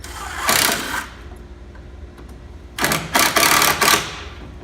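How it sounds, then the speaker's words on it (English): A drill drives pocket hole screws into a wooden face frame built with a Kreg jig, one short whirring burst followed by a cluster of several quick bursts, close and loud, with quiet gaps between. "putting the last couple of pocket hole screws in"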